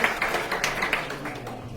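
An audience at a crypto business seminar claps, giving a scattered run of hand claps at moderate volume that thins out toward the end.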